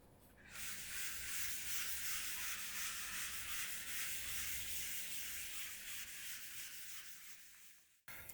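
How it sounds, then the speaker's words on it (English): Continuous scratchy rubbing as writing is wiped off a board, a close, steady eraser swish that holds for about seven seconds before stopping abruptly. "let me rub this part of the board to elaborate further"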